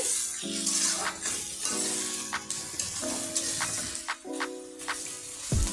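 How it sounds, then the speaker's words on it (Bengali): Mixed vegetables frying for chow mein give off a steady, close sizzle with occasional clinks from the pan, while voices sound over the frying. "এই যে আমরা সব সবজি ফ্রাই করছি।"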